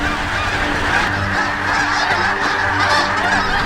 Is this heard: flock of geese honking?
yes